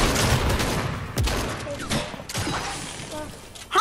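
Dense gunfire bursts and shatter-like impacts from a team shooter game, loud and continuous with sharp spikes, mixed with excited player voices talking over the action.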